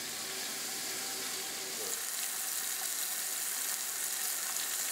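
Marinated Sauerbraten beef sears in a pot with a steady, close, loud sizzling hiss that runs throughout, joined by light crackles.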